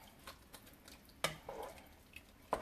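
Seasonings being stirred into spaghetti sauce in a pot on a stove turned to medium-low, with soft spoon scrapes and occasional sharper clinks against the pot, quiet and close.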